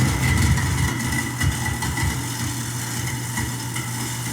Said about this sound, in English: it says turn on disposal for 2 minutes